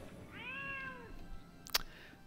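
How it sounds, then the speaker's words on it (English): A cat lets out a single, fairly faint drawn-out meow. It rises and falls over about a second, is followed shortly by a brief click-like noise, and sits over a low background hum. "That was a cat."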